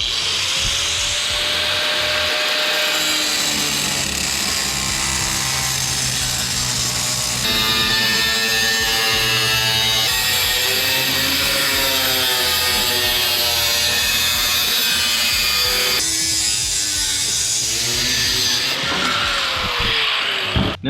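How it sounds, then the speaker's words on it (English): An angle grinder cuts and scores sheet metal in a workshop, a loud continuous whine with pitch shifts as the disc bites and eases, running alone for about twenty seconds. "First thing I need to do is cut and score this sheet metal with a grinder."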